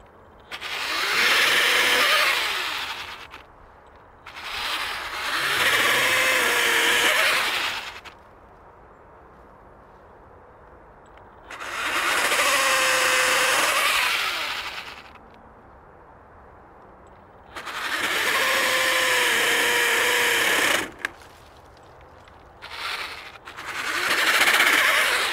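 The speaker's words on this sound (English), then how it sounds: "It cuts through very fast, but I did try this elsewhere, and the power head does not like the chainsaw kicking back." Echo eFORCE DPAS 56V battery pole saw with chainsaw attachment cutting branches: four loud, sustained whining bursts of several seconds each, separated by quiet pauses, close by and with no talk.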